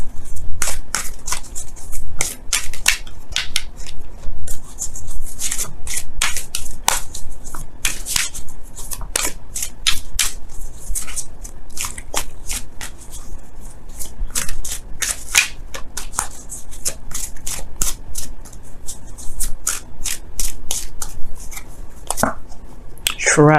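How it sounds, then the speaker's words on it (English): Romance Angels oracle cards shuffled by hand in a steady run of crisp, close riffling snaps and slides, continuous with no voices. "let's go ahead and take a look at what the Romance Angels cards say"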